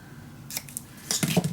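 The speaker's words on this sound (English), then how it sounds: "now I just can cut" Scissors snip through scrapbooking paper for a mini album, a few quick soft cuts close by in a quiet room.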